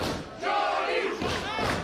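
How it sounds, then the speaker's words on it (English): A wrestling crowd chants for Johnny Rivera, the Wild Hound, during a Wild Dogs vs. Brick City Boys tag match, with loud rhythmic massed voices rising in two swells. "you can hear this crowd chanting for Johnny Rivera, the Wild Hound"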